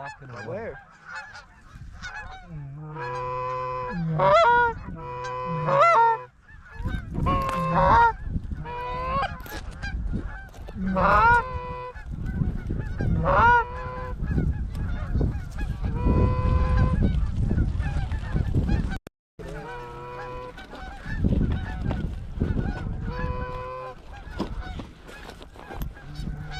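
A flock of geese honks continuously in an open field on a goose hunt, with dense overlapping calls that swell and thin out, mixed with rustling and handling noise close by, and no speech.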